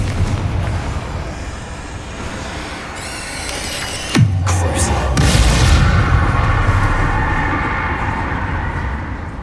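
The Confringo fire spell going off in the video game Hogwarts Legacy: a single loud boom about midway through, with a falling whoosh and a rumble that fades slowly, over steady game background noise.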